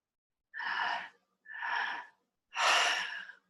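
Three deep, breathy inhalations and exhalations during guided meditation, each lasting about half a second to a second, separated by short silences, fairly close and clear with no talking.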